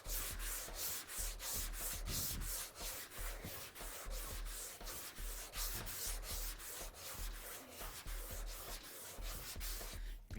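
A sanding block rasps across a car roof in steady cross-hatching strokes, a close, rhythmic scrubbing with regular back-and-forth pulses and no talking.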